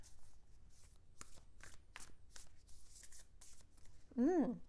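Cards are shuffled close by in soft papery riffles and flicks, quiet overall, ending with a brief louder squeaky burst.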